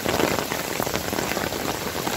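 Heavy rain from a rainstorm pours down in a dense, even hiss of drops hitting surfaces, loud and steady without a break, with no voices present.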